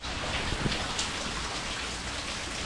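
Steady rain falls close by in a dense, continuous hiss with scattered heavier drops, with no voices.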